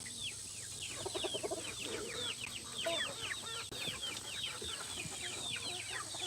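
Farmyard chickens cluck and chatter continuously in a dense, close chorus of overlapping calls, with a steady low hum underneath and no talking.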